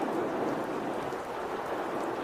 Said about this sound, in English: It's only a thunder shower.